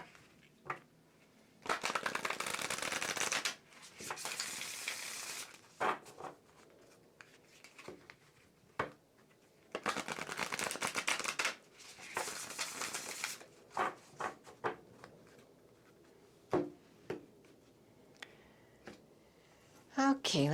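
Sabian tarot cards are shuffled in several long, crisp riffling bursts, with brief taps and quiet pauses between them.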